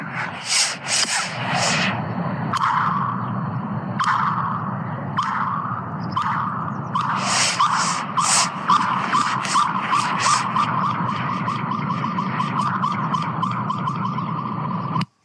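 A golf ball struck by a club skitters out across frozen ice, bouncing again and again with quickening, ringing pings that speed up as the hops shrink, heard alone.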